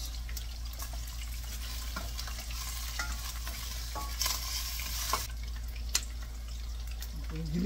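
Food sautéing in a pan with stirring and steady sizzle, the garlic and salt stage of a home-cooked dish, with a few sharp utensil clicks near the end and a low hum underneath.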